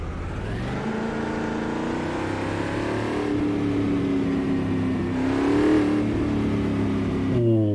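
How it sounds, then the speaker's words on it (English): A throaty V8 Brazilian Stock Car race engine in a racing simulator idles and revs continuously, loud and close, with the pitch rising in surges before dropping back. "not quite got that dirty V8 noise to it"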